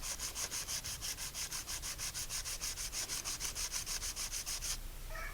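Sandpaper rubbed back and forth in the grooves of a wooden boomerang, a fast regular rasping stroke rhythm, close and fairly quiet, stopping near the end.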